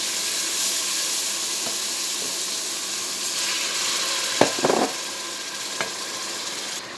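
Beef trotters sizzle and fry steadily in a pot, a continuous bright hiss with a few clanks from stirring near the middle and end.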